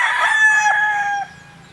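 A rooster crows once, loud and close, a single drawn-out cock-a-doodle-doo with faint farmyard hum behind it and no talk.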